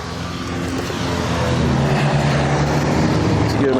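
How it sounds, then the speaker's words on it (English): Sunday street traffic rolls past nearby as a steady, fairly loud rumble and whoosh of passing vehicles, with no pauses throughout. "If you can hear me over the Sunday traffic."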